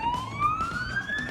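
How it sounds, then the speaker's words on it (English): A police siren wails with a rising electronic tone, steady and fairly loud, with faint background noise beneath. "it turns the siren on as well"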